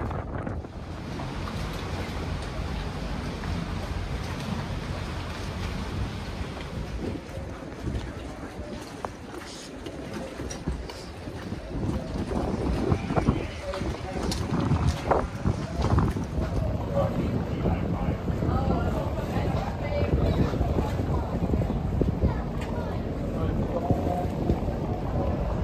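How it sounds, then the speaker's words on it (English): An Uber Thames Clipper ferry pulls into a pier slip on the River Thames in London, its steady engine rumble and churning water building louder up close, mixed with gusty wind noise across the microphone. "Soon, the ferry pulls into the slip."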